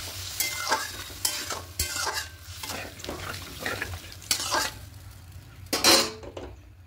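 Water poured onto frying masala in a pan for a Bengali fish-and-potato curry, with loud bursts of sizzling and repeated scraping and clanking of a spoon stirring against the pan, close up and without speech.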